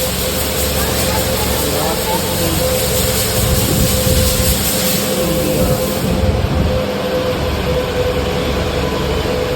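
Kawasaki Vulcan S motorcycle fitted with a TBR aftermarket exhaust runs at a steady idle, a close, continuous engine rumble with a faint high whine throughout.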